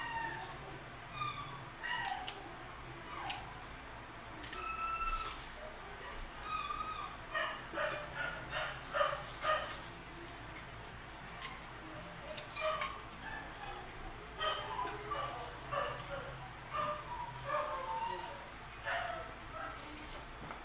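Dogs bark and yip repeatedly in the distance, faint and scattered, over steady background noise and occasional quiet talk.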